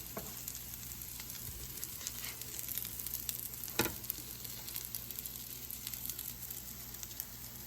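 Boiled-potato kababs frying in hot oil, a steady close sizzle with faint crackles and an occasional sharper pop or scrape, no voices.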